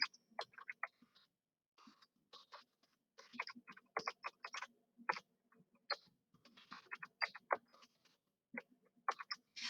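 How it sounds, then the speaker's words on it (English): Typing a web address on a computer keyboard, heard as quick irregular bursts of key clicks separated by short pauses, clear and close with no talking. "So I'm going to go and type that whole thing in."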